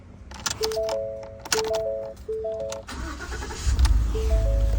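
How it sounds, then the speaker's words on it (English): A 2016 Ford F-150 gives a series of key-on warning chimes, then the engine cranks and catches. It settles into a steady, close idle that grows louder toward the end. "We're gonna start the car first."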